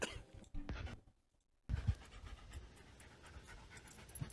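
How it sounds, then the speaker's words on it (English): A husky pants rapidly and close, with a brief quiet pause partway through before the quick, breathy panting resumes and carries on steadily. "Is that a husky?"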